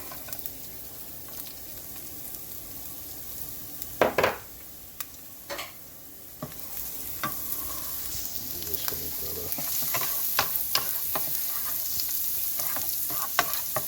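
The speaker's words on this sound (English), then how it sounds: "Drop it. Yep, sizzling." Beef and broccoli sizzles steadily in a hot pan, punctuated by sharp clinks and scrapes of a utensil stirring against the metal.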